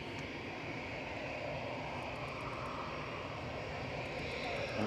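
A KLM airliner coming in to land at Manchester Airport gives a broad, steady engine roar, fairly distant and faint, holding evenly and swelling slightly at the end.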